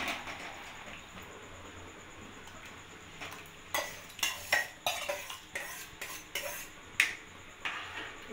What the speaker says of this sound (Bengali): এবার আমি এই আগে থেকে দুধে ভিজিয়ে রাখা খেজুর, আমসত্ত্ব, কাজু, কিশমিশ এটা আমি দিয়ে দেবো।